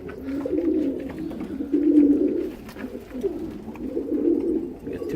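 Homing pigeons in a loft with chicks and birds sitting on eggs coo in repeated soft, low rolling phrases, close and moderately loud, with no talking.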